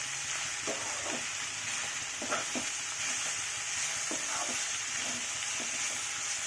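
Chopped capsicum and green chillies sizzle steadily in a hot wok for veg chowmein, a constant hiss with occasional soft spatula scrapes, close by and without talking.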